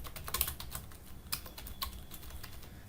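Fingers tap a computer keyboard in quick, uneven clicks, close and clear, with a short pause partway through and no voices over it.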